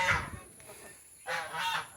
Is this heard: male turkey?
yes